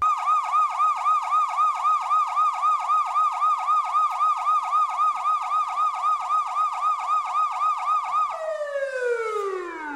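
A police siren wails, cycling rapidly up and down, loud and steady, then drops in pitch as it winds down near the end.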